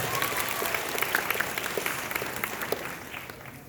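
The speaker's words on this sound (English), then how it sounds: "Please clap for Cole." A convention crowd at a Florida fan event claps for a panel guest, producing a dense, continuous wash of applause with a few louder individual claps, sustained throughout.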